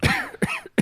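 A person imitates an old man's cough with three short, raspy, throaty hacks in quick succession, close and fairly loud.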